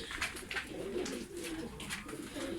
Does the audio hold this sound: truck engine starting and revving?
no